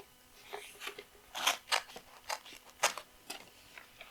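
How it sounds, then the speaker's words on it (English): Scissors snip through wrapping paper in a series of short, crisp, close cuts, spaced irregularly with brief quiet gaps between them. "I have to like measure and cut it the right size."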